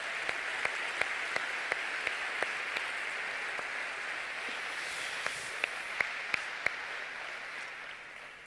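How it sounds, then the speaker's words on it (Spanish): A church congregation applauds, a steady wash of many hands clapping at moderate distance, with a few sharper individual claps standing out in a loose rhythm. "Un aplauso al Señor"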